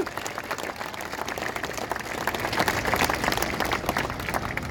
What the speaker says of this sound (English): So can you give yourself a clap for turning up?